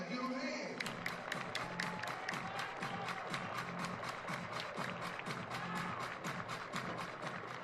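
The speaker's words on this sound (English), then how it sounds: "Everybody clap your hands." A baseball stadium crowd at a 2021 Padres versus Dodgers game claps in a steady, rhythmic beat, sharp and regular throughout, while a commentator talks over it.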